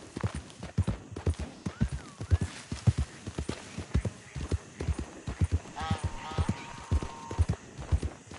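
Horse hooves clip-clop in a quick trotting rhythm in the western video game Red Dead Redemption 2, close and clear, with a brief whinny and speech-like game sounds mixed in.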